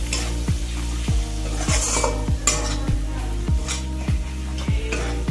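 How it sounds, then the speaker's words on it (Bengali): Turmeric and chili powder sizzle in hot oil in a pan while a spatula scrapes and stirs in a steady rhythm of about one stroke every half second, close and loud over continuous frying. "এবার দেব হলুদ গুঁড়ো, এবার দেব লঙ্কার গুঁড়ো। ঝালটা অবশ্যই আপনারা আপনাদের মতো দেবেন, একটু নাড়াচাড়া করে দেবেন।"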